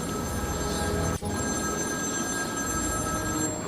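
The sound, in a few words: telephone ringing in Batman: Arkham City video game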